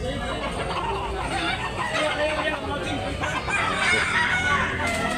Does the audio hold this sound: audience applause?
no